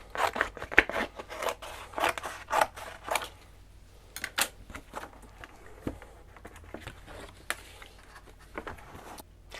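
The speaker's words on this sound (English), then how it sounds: "I'm going to cut a piece" Scissors snip photographic test paper in a darkroom, a series of crisp, close cuts in irregular bursts, busier at first and then sparser, with no talking.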